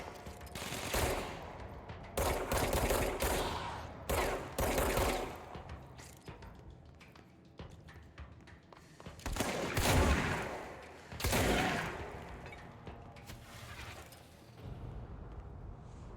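Rapid bursts of gunfire from the video game Control, loud clusters of shots and automatic fire separated by brief pauses, with no talking over them.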